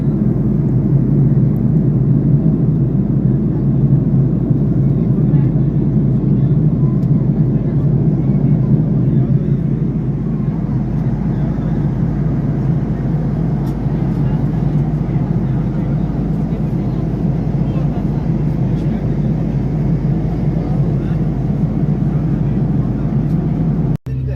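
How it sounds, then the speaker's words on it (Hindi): Aircraft cabin on a flight from France to Pakistan during landing approach, a steady loud low engine and airflow rumble that eases slightly partway through, continuous with no talking. "हमने लैंडिंग करनी है"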